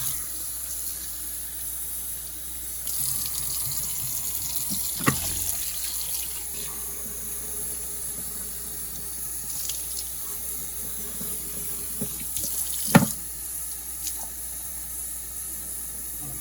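Warm water runs steadily from a sink tap, a constant close rush with a couple of sharp knocks and clinks partway through as a portable spot cleaner's tank is rinsed.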